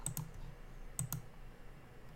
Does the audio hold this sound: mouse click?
yes